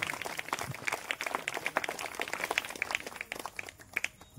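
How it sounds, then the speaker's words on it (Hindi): Church congregation clapping at a worship service, a fairly quiet, dense run of rhythmic hand claps sustained throughout without any voices. "जोरदार ताली से प्रभु को महिमा देंगे"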